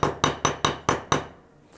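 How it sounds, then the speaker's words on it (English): A hammer taps on a piece of lead resting on 10mm steel plate, giving six sharp, ringing metallic strikes at a steady, quick rhythm, close and loud, with brief decays between them. "a little bit of 10mm steel plate and a hammer, and we just tap it away into the shapes we want"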